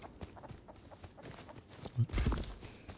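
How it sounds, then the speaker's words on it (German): A chicken clucks in the survival game Rust, a couple of short clucks near the middle over soft footsteps and ambient game noise. "Na, ich höre es hier bloß gackern."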